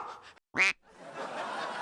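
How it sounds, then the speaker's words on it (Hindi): A single short, nasal duck quack stands out clearly between quieter stretches of background voices. "ये मेरी बत्तख है"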